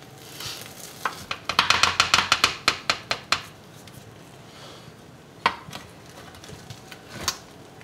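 Hachis parmentier, a baked dish, being handled as it comes out of the oven, with a quick burst of rhythmic clattering and tapping of dish and utensils, then a few isolated knocks, close and moderately loud.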